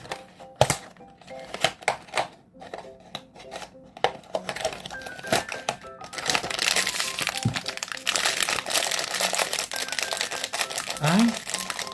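Blind box figure packaging being torn open and its wrapper crinkled, with crisp crackling and tearing that grows denser and louder toward the end, under a person talking at times.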